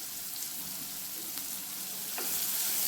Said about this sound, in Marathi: आता हे भाजून घेते कांदा चांगला कांदा चांगला भाजायचा